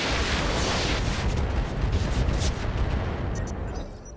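A BattleTech mech in the RogueTech video game firing two ER lasers and an MRM missile salvo, a dense roaring wall of blasts and rumbling impacts that stays loud and continuous, then thins out toward the end.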